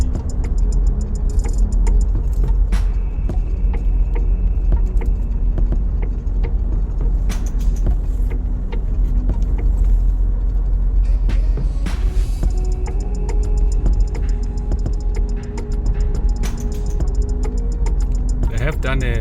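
Car driving through the streets of Harare, Zimbabwe, toward the city centre: a loud, constant in-cabin road and engine rumble with occasional ticks and rattles throughout.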